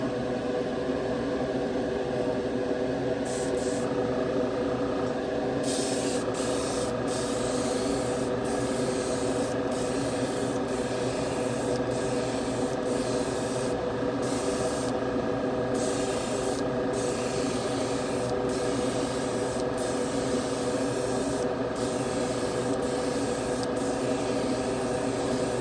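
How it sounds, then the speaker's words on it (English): Spray gun laying a heavy final clear coat on a 1956 Chevy Gasser, a continuous close hissing spray with brief breaks and pulses as the trigger is released and pressed again, no talking. "getting ready to put the last coat on. It'll be 5 coats of clear, or as they call it, varnish"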